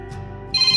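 A telephone rings indoors with a bright electronic ringtone, a short steady burst of close, clear tone.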